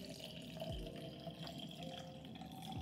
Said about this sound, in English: I just need to add some water, because as you can see, there is some like powder inside.